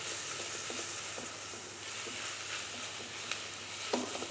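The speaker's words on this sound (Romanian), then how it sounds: "Călim și usturoiul." Garlic sautéing in hot oil after onions, a steady close sizzle and crackle with faint stirring scrapes throughout, no voices.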